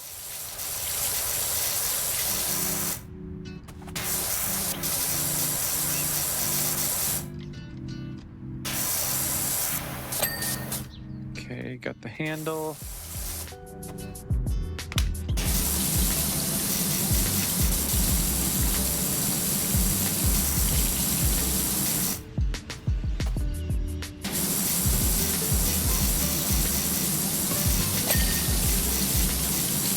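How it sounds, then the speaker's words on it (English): Pressure washer in PowerWash Simulator blasting a lawnmower with a loud, steady hiss of spray that cuts off and restarts in bursts, with brief speech in between. "Probably not the best idea to pressure wash a lawnmower"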